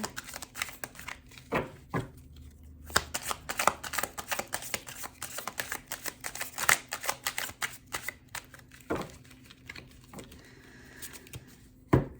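Tarot cards being shuffled in repeated riffling bursts with brief pauses between, close and crisp, no talking.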